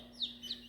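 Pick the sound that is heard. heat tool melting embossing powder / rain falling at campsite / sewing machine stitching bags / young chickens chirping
young chickens chirping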